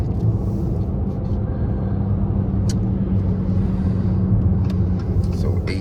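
Dodge Challenger V6 with an 8-speed transmission, riding on 24-inch wheels, heard from inside while driving: a loud, steady low engine and road rumble with no clear changes in pitch.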